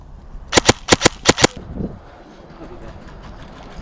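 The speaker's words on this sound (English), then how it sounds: "Shooting through the fence, my dude." At an outdoor airsoft game, guns fire through a fence in three quick pairs of sharp cracking shots, close and loud, followed by quieter rustling and faint voices.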